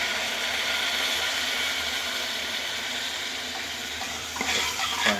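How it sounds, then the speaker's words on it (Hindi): Water running steadily into a cooking pot in a small home kitchen, a continuous splashing hiss that stays close and even, with a few clinks near the end. "अब ये जा रहा है पानी।"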